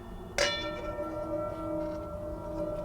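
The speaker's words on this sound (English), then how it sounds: "Suzu gong, which of course is a religious instrument, and it's made from many metals" A suzu gong, a religious singing bowl made from many metals, is struck once with a sharp metallic attack, then rings on with a sustained, slowly fading shimmering tone.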